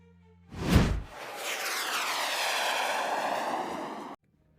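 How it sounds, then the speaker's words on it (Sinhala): Engines of a Boeing B-29 Superfortress, the World War II bomber, give a sudden heavy thump and then a broad roaring drone that holds steady for a few seconds before cutting off abruptly. "B-29 සුපර් ෆෝට්‍රෙස් කියන ප්ලේන් එක"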